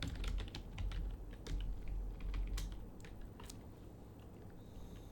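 Rapid clicking of computer keyboard keys while entering a character prompt in iClone 8, a busy irregular run of close keystrokes over a low hum that thins out toward the end.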